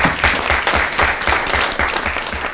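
A student government meeting room breaks into applause: a moderate crowd clapping steadily with a noticeable rhythmic pulse, loud and continuous over the short stretch.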